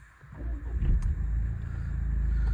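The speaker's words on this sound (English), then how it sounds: "I'll start the car up. So to do that, there's a little pulsing start button here" A 2015 Jaguar XE 2.0d 180 Prestige automatic diesel cranks and fires up, then settles into a steady low, close idle rumble.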